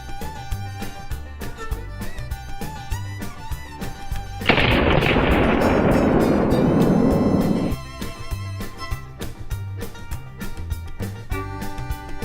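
A shotgun blast fired into a pumpkin outdoors: one loud, sharp broadband burst that rings and decays for about three seconds, set against steady background music.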